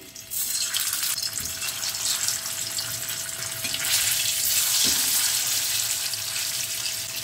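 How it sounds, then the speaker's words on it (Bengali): Potatoes frying in lightly heated oil, a steady broad sizzle that hisses like running water and holds constant throughout with no talk, plus a faint steady tone and a couple of soft clicks from the pan. "তেলটা আমার হালকা গরম হয়ে গেছে। আলুটা ছেড়ে দিই।"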